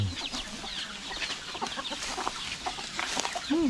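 Several chickens cluck and chatter close by, a busy overlapping flock with occasional sharper squawks, no one speaking.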